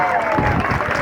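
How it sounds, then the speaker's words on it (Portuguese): Audience applause at a live music show, a brief steady patter of clapping from the crowd under a voice. "E o nosso aplauso."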